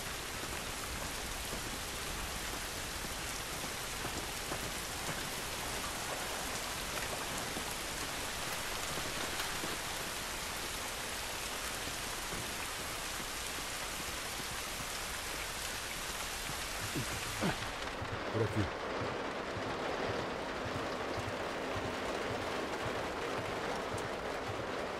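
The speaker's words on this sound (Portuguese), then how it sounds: "Essa chuva não vai nos ajudar." Steady rain pours in The Last of Us Remastered, a dense, even hiss of drops on surfaces for most of the stretch, then thinning toward a quieter patter near the end with a brief low knock.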